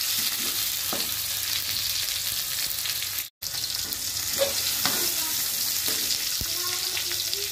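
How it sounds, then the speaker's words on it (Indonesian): Chili and tomato stir-fried in a pan, giving a steady hiss of frying with scattered scraping stir clicks and a brief dropout midway; faint water or tap sounds mix in. "masukkan cabai dan tomat. Tumis sampai"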